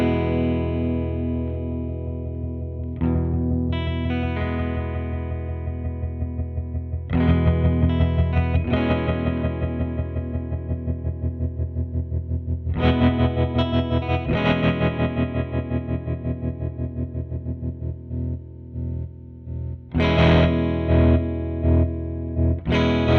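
Electric guitar through a Catalinbread Tremolo8 tremolo pedal, chords strummed and left ringing with a fast, even pulsing throb, several separate phrases played alone with no talk.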